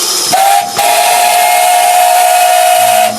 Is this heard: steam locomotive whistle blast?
yes